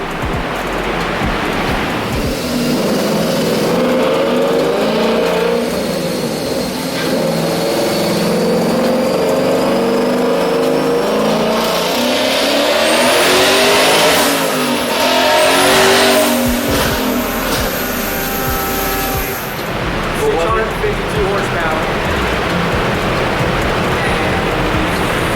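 Loud, sustained engine roar from a Hellion twin-turbo Coyote 5.0 Mustang GT on a dyno, building steadily through a long pull with a rising turbo whine and no talk.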